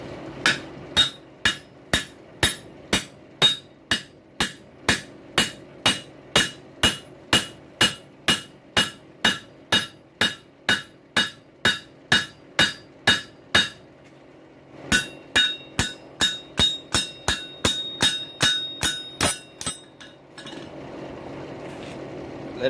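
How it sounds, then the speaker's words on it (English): Stainless steel pipe struck with a bigger hammer while being forged into a tool: a long run of sharp, ringing metallic blows at a steady, even pace, a short pause, then another quicker burst of strikes. "Bigger hammer."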